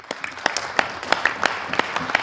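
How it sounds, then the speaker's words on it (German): Audience at a German political speech gives brief applause, scattered sharp claps over a soft crowd murmur for a couple of seconds. "Applaus"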